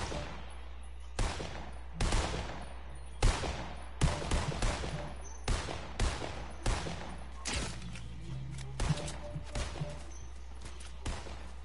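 Gunfire in a shooting video game: roughly a dozen loud, distinct shots and short bursts crack out at irregular intervals over a low background hum.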